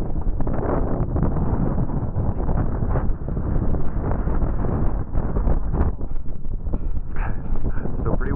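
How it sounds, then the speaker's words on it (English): Strong wind buffets a gondola high on Crystal Mountain above a frozen river, a loud continuous low rumble with gusty surges and faint creaks, steady throughout. "Still pretty windy."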